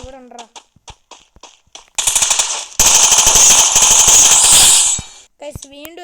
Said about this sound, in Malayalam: വീണ്ടും ഒരു P90 വെച്ച് ഹെഡ്ഷോട്ട് കൊണ്ടിരിക്കുന്നു